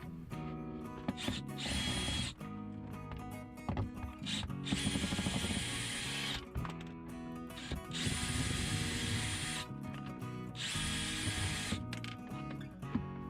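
Power drill backing out the four screws that hold an RV water pump, several bursts of whirring motor with short pauses between them, close and steady, without speech.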